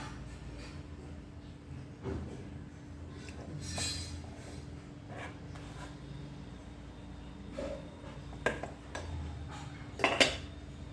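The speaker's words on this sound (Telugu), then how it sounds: "అన్నం కూడా ఎట్లా తీయాలంటే ఒక పక్క నుంచి ఇది ఇట్లా లోపలికని తీయాలా" Cooked rice being scooped from a pot in a home kitchen, scattered metallic scrapes and clinks of a spoon against the vessel over a quiet room background, sharper knocks near the end.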